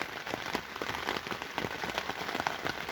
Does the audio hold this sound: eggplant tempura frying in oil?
no